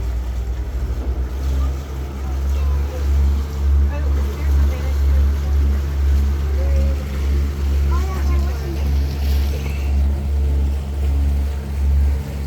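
A river tour boat motor on the river at Wakulla Springs State Park drones steadily and loudly throughout, a low continuous rumble with faint background sounds on top.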